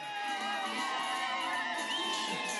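A large crowd ululates and cheers at a presidential results announcement in Kenya, a dense, sustained wall of high trilling voices and shouts, loud and continuous.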